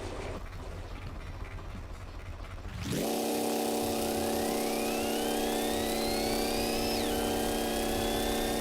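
Engine in the Gear Blocks building game starts abruptly after a quieter stretch, then holds a loud, steady mechanical drone with a rising whine partway through; no one speaks.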